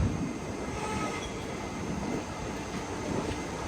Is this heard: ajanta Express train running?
yes